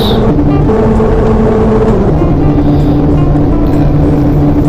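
A model steam locomotive's electric motor running under throttle, a loud continuous hum with steady tonal whine lines that shift slightly in pitch as it runs.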